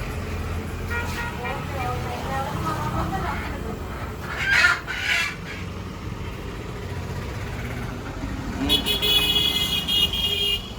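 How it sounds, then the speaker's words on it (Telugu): Country chickens (natu kodi) at a shop in Gudivada, with clucks and squawks scattered over street noise, a passing horn and voices nearby. "నాటుకోళ్ళు అయితే ఇప్పుడు తీసుకొచ్చాము."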